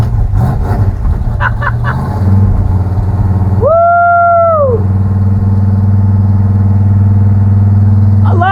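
A 1965 Ford F-250 truck engine runs loudly and close at a steady, droning idle after a long unused spell; a shrill whine rises and falls briefly midway, and one person gives a short excited shout near the start.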